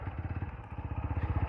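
A TVS Apache RTR 160 4V motorcycle, which has a power-loss problem, rides along with a low, even engine thrum that pulses rapidly and steadily, close and moderately loud.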